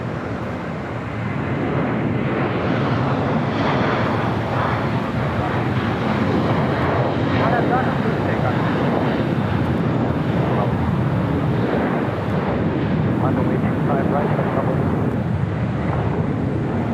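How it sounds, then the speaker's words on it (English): United Boeing 787-9 Dreamliner beginning its taxi at LAX, a steady broadband engine roar with wind noise, loud and continuous throughout. "This United Dreamliner 787-9 Dreamliner now starting taxi, heading to Hong Kong,"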